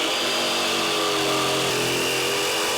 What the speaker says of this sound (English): we're ready to use our jigsaw to cut out the pockets of the lettering